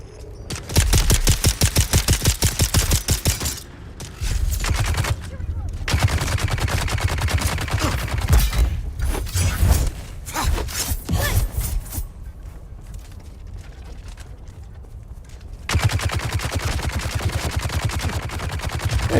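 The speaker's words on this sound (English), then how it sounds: "They sure like shooting me." Rapid automatic gunfire aimed at the player in the video game Dune Awakening comes in loud, close bursts, with brief pauses between volleys and a long barrage at the end.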